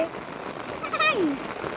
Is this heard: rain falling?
yes